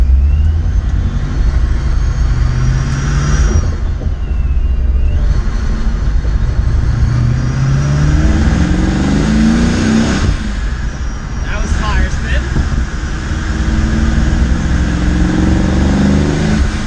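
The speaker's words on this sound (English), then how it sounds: "I have the window down just so you guys can hear a little bit more of the exhaust" A 750+ horsepower old muscle car engine rumbles continuously through its exhaust while driving with the window down, loud and steady with rising revving sweeps, under someone talking throughout.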